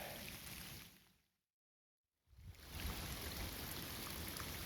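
Steady hiss of rain falling, dropping out into silence briefly before the downpour resumes even louder.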